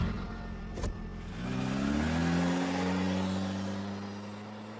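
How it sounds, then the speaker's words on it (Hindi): A tractor engine starts up and revs, then holds a steady low drone as the tractor pulls away toward a field, close by with a brief knock near the start. "अपना ट्रैक्टर उठाकर खेत की तरफ निकल जाता है"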